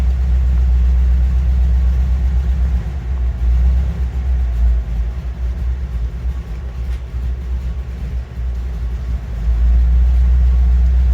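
A Bumblebee car's engine idles on low choke with a steady, loud, low rumble that dips and rises unevenly, close by and without talk.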